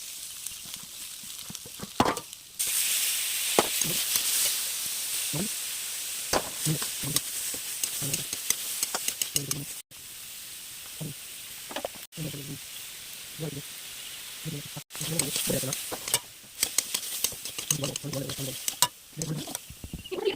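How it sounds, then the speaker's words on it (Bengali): Vegetables with chopped tomato, onion, chilli, salt and turmeric fry in a pan for semolina khichuri, a continuous sizzle broken by repeated scraping stirs and a few brief pauses. "টমেটো কুচি, পেঁয়াজ লঙ্কা কুচি দিয়ে সবজিগুলো সামান্য নুন ও হলুদ দিয়ে ভেজে নিন।"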